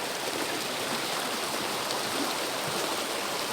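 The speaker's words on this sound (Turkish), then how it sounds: "Arkadaşlar yağmur da bayağı bir bastırdı." Heavy rain pours steadily, a dense, even hiss of drops with no pauses and no voices.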